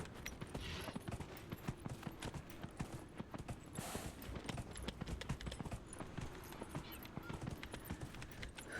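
Horse galloping in the video game Dragon Age: Inquisition, a quick, steady clip-clop of hooves drumming on for nearly nine seconds at moderate, fairly close loudness, with a voice talking quietly over it.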